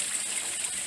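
Water rushing and hissing steadily as it flows through the cooling system of a Datsun 280ZX engine being flushed, a close, continuous broadband gush with no voices.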